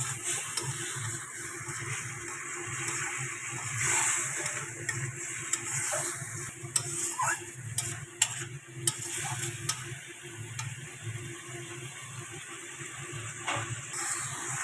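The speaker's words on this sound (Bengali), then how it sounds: "মশলাটা খুব সুন্দরভাবে কষানো হয়ে গেছে, আর মশলা থেকে তেল ছাড়াও শুরু করে দিয়েছে" Spice paste with tomato fries in a pan for a homestyle rohu fish curry, a continuous close sizzle with occasional stirring scrapes and small ticks.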